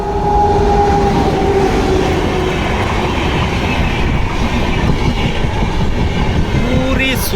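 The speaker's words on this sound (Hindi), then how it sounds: "देखिए कितनी तेज से ट्रेन जा रही है" A train races past at high speed beside a track on a railway journey, loud and close with steady rumbling and clickety-clack of wheels throughout, a brief whistle-like squeal near the end.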